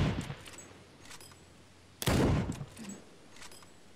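Gunfire in the military shooter Arma 3, sporadic distant shots and short bursts with one loud, sharp crack near the middle, mid-level overall with no talking.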